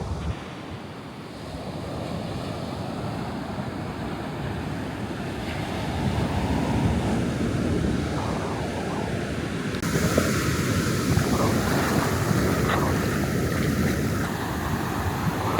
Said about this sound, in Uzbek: Lekin to'lqinlar bu yerda juda ham kuchli ekan.